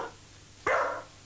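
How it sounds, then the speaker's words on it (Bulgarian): During playful training of a companion dog, a single loud bark bursts out near the end and trails off briefly. Before it there is only quiet room tone, with no speech. "Така че ние ще позволиме това лаяне"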